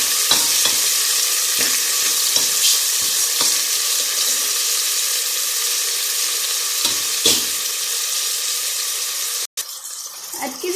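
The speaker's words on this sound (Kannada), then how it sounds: "ಆಮೇಲೆ ಸ್ವಲ್ಪ ಈರುಳ್ಳಿ. ಇದನ್ನ ಚೆನ್ನಾಗಿ ಫ್ರೈ ಮಾಡ್ಕೊಳ್ಳಿ" Onions frying in a pan for drumstick sambar give a steady close sizzle, with scraping stirs clustered early and again later, then a brief dropout and a rattling clatter at the end, no words.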